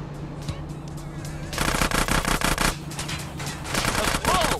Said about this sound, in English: Carl, just concentrate on the driving, and we'll take care of the shooting.